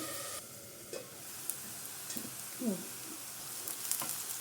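Onions frying in a pan until golden brown, a faint steady sizzle with occasional soft stirring scrapes, close and quiet.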